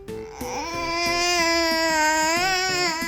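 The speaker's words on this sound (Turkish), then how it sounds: "Ama neden ağlıyorsun?" A young child cries loudly and steadily in a sustained wailing tone with small breaks in pitch, close up, with no other voices.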